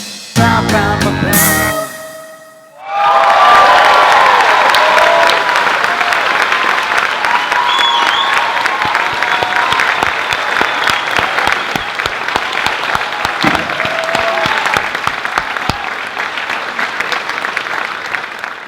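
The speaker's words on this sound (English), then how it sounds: "Let's have a round of applause for Elena." After a short burst of music cuts off, a talent-show audience breaks into loud, sustained applause for a performer named Elena, with dense clapping that carries on for many seconds and slowly thins toward the end.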